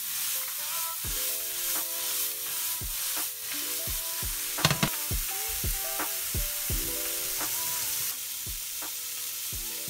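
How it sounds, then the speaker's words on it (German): Mushrooms frying in a hot pan for a mushroom risotto, a steady close sizzle broken by repeated sharp clinks and scrapes of a utensil against the pan, with no talking. "Das Ganze ist heiß genug. Jetzt können die Pilze rein."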